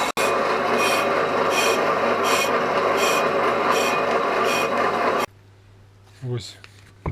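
Lathe turning a VW T4 brake disc on a TV 320 machine, a loud steady rasping cut with regular pulses that abruptly stops, leaving quiet hum, while someone speaks.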